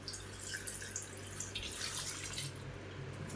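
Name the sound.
water being poured into pot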